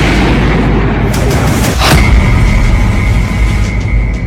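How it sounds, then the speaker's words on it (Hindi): A drone strike explosion in Moscow, heard as one sharp blast near the middle over steady loud background rumble, followed by a lingering high tone. "अब 10 सितंबर को जेलेंस्की का एक और ड्रोन मॉस्को तक पहुंच गया और इस धमाके को अंजाम दिया"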